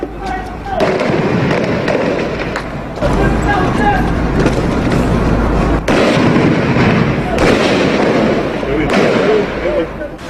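Gunfire from fighting in Marawi city rings out as repeated sharp cracks and bangs over a rumbling, noisy background, loud and dense throughout.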